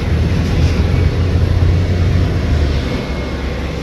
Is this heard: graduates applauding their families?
no